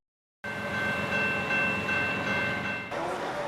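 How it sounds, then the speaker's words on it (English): A small model railroad train whistle sounds in one long, steady, bright tone that starts abruptly and holds for a few seconds before shifting near the end, close and alone with no talk. "If happiness was a sound, I think it would be this little train whistle right here"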